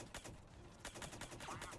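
Rapid bursts of gunfire from a weapon in Mass Effect 3 Remastered, a quick run of repeated shots over about two seconds, close but quiet in level.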